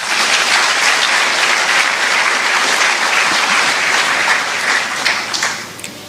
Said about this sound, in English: Shall we please give His Majesty another round of applause?